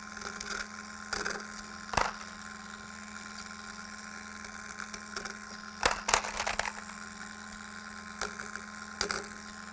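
A Lyman Case Trim Express motor runs with a steady electric hum while brass rifle cases are trimmed. Metallic clinks and rattles of brass drop in at irregular moments, close and fairly quiet.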